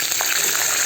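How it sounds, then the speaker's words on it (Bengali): Peanuts frying in a pan, heard as a brief, loud, close hiss of sizzling oil with faint stirring. "আর এখানে দেখো বাদাম ভাজছি"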